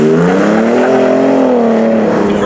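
A 2017 Ford F-150 Raptor pickup truck drives along with a steady, loud engine drone that swells slightly in pitch midway and then settles, with no talking over it.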